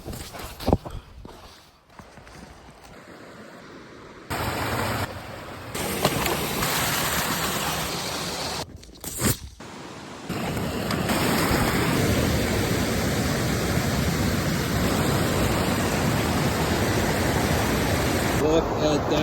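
Rushing river below a waterfall on a snowy winter hike, a steady loud broadband roar that fills the clip, broken early by brief crunching steps and handling noise before settling into continuous rushing water.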